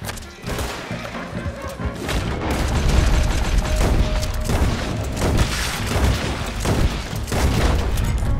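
Gunfire in a Red Dead Redemption 2 shootout: rapid, overlapping gun bursts and booming shots keep up a dense, loud barrage across the whole stretch, with no clear gaps.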